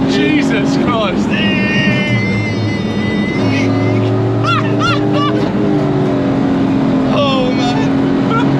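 BMW V8 powered Ford Transit van drifting, its engine roaring loud and continuous with sustained revving and tyre noise, while excited voices shout and talk over it.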